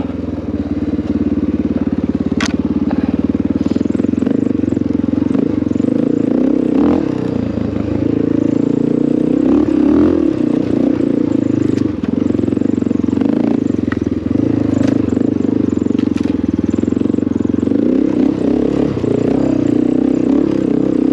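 A Honda XR650L dual-sport motorcycle rides through fresh snow, its single-cylinder engine droning loudly and continuously close by with small shifts in revs and occasional light clatter.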